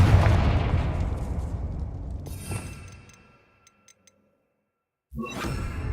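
Confringo spell explosion in Hogwarts Legacy: a loud rumbling blast that whooshes and decays over three seconds, a few faint ticks in near silence, then another burst of noise near the end.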